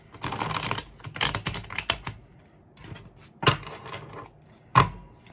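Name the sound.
shuffling a deck of cards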